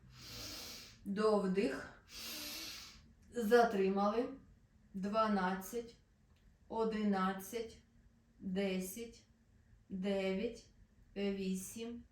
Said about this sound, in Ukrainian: І вниз видих до кінця.